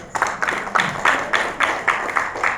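An audience applauding at an event at the Lalith Ashok hotel, heard as a short run of regular, fairly close claps from a modest crowd, with no voices over them.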